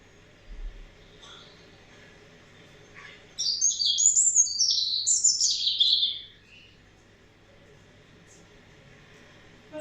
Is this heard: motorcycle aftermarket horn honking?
no